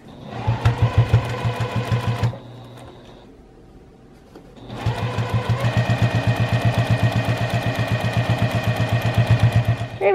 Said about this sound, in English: now we're going to just keep on sewing down this edge till we get to the next corner